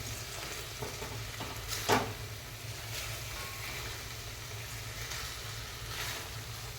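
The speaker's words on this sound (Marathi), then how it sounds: "मिक्स करून घ्या व्यवस्थित" Chicken masala being stirred in a pan with salt, a soft sizzle and quiet scraping strokes under a steady low background hum, faint and continuous with no talking.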